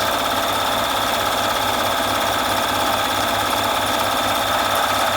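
A Bernina 1130 sewing machine runs a zigzag stretch stitch in one continuous, close, even run, its motor buzzing with a fast, regular needle pulse throughout.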